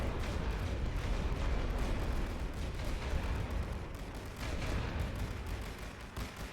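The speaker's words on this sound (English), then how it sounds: "The artillery's got us suppressed at the moment" Continuous rumbling battlefield barrage of artillery fire from The Great War: Western Front, a dense, steady low roar of distant shell blasts and gunfire running the whole time without pauses.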